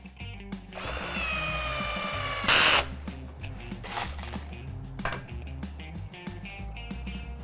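Power drill driving composite screws into migratory beehive lids, a sustained whirring run for a couple of seconds ending in a sharp burst, then scattered clinks and handling knocks.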